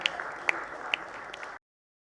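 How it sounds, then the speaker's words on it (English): Delegates applaud nurses and health workers receiving awards at a nursing excellence ceremony, a thin, fairly sparse patter of clapping with a few sharp individual claps standing out before it cuts off abruptly into silence. "Please give them the round of applause."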